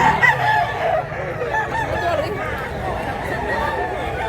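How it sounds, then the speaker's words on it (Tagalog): Chickens and roosters at a farm in Mantalungon, Barili, Cebu cluck and crow, with a few close crows over a busy mix of clucking, while people talk nearby. "Daghag manok mga idol."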